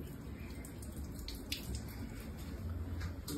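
Onions and green chillies are washed under running water in a kitchen, a steady tap splashing with small drips and knocks close by.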